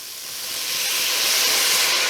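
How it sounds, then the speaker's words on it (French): White wine poured into a hot casserole to deglaze it after browning for a fish stock, a steady broadband sizzle that swells and holds loud and close, with no talking. "Je prends donc mon vin blanc"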